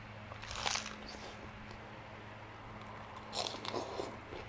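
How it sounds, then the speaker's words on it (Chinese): Close crunchy bites and chewing of fresh lettuce leaves dressed with sesame sauce, served alongside BBQ ribs, with two distinct crisp bursts separated by softer chewing. "我现在把这个菜吃一吃，因为这个配酱真的是好吃啊"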